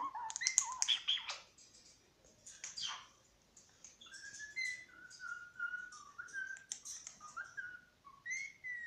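A pet bird whistles and sings in a bright, lively run of chirps, squawks and rising whistled notes, close and fairly clear, with short pauses between phrases and no talk over it.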